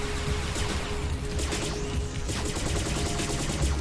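Rapid bursts of gunfire in the video game P.N. 03 crackle in quick succession over a dense, continuous din of battle sounds.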